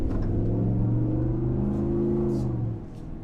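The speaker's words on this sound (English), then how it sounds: "So you can definitely hear the exhaust. Definitely lets more of the engine sound come through the cabin." The V8 engine and exhaust of a 2022 Ram Rebel GT with an 8-speed automatic drone steadily from inside the cabin as the truck accelerates, a deep rumble that eases off near the end.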